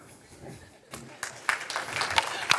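Audience applause after a microbiome startup pitch, starting faintly and swelling into a fuller round of clapping from a room of listeners.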